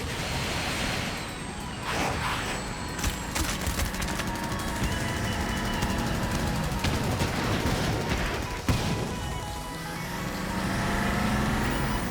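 Missiles launching in a chaotic animated sci-fi battle from Appleseed Alpha: dense bursts of rushing, crackling fire and repeated sharp blasts over a loud rumbling bed, with a sudden jolt near the end.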